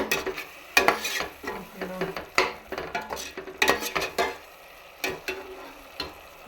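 Tomato masala with salt sautés in a pan for chicken gravy, giving a low sizzle under frequent spoon scrapes and clinks against the metal, close and quiet, with no voices.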